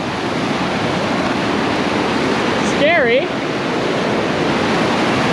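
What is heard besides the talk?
fast-flowing river water near Niagara trail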